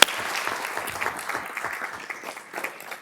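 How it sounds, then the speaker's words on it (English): Audience applause at a school board meeting, a dense patter of many hands clapping steadily at moderate loudness for about three seconds, with a sharp opening clap and no talk over it. "If you could just applaud with me for these young men."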